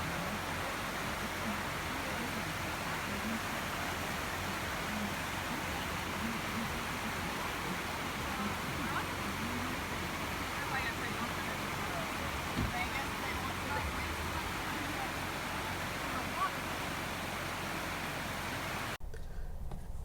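A waterfall near Gatlinburg gives a steady, even rushing roar heard from a distance. It runs unbroken for about nineteen seconds, then cuts off abruptly.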